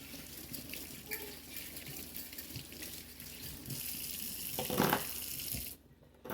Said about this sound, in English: You're going to wash it out.